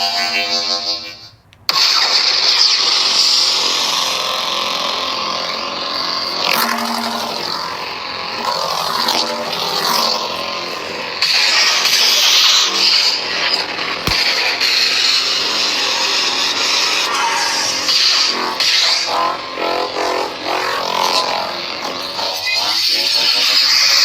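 A toy lightsaber with a 22mm speaker cycling through sound fonts: a string of electronic hums and swooshing tones, each a different buzzy sci-fi blade effect, switching one after another with brief swells and clashes, loud and close.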